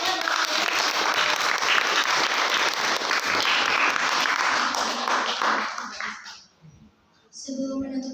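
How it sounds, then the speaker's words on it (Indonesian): An audience at a grade 8 school presentation gives lively, dense applause that stays steady for about six seconds, then thins out and fades, with voices returning at the end. "Kita berikan aplaus yang meriah."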